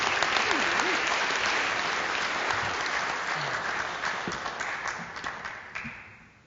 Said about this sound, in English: That was a nice little tail off there on that applause.